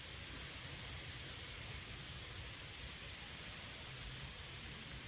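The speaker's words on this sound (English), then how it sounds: "The storm is clearing." Steady rain storm hissing across a hazardous alien planet in No Man's Sky, a constant even downpour with no breaks, fairly quiet, with no voices.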